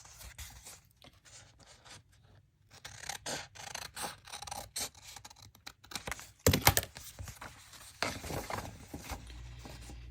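Paper being trimmed right to the edge while making cigar box top pockets, heard as a series of close, crisp cutting and rustling snips in irregular bursts, with no talk.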